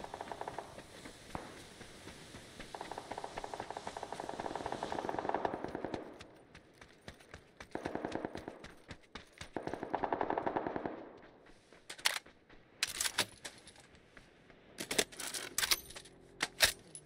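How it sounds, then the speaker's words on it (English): Close, rapid bursts of M249 machine-gun fire crack right overhead, loud sustained volleys broken by short gaps, then sharper scattered single shots and clattering near the end. "they're shooting right above our head"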